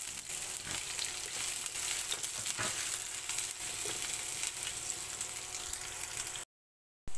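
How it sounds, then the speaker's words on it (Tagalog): Garlic and onion sautéing in hot cooking oil for a Filipino shrimp and vegetable stir-fry: a steady, loud, continuous sizzle that runs unbroken before cutting off abruptly near the end. "Mainit na itong ating mantika at ilagyan natin ang ating bawang. Isabay na rin natin itong ating sibuyas."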